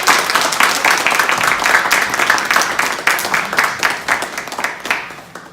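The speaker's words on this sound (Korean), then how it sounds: "우리 친구들 위해서 정말 크게 한번 박수 쳐주시기 바랍니다" A church congregation at a New Year special dawn prayer service applauds children, producing loud, dense, continuous clapping close by that stays even throughout with slight swells.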